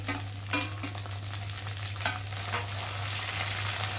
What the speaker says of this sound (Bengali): পেঁয়াজটা ভাজা হয়ে গেছে, আর এখন আমি এর মধ্যে আদা বাটাটা দেব, আর দেব টমেটো কুচি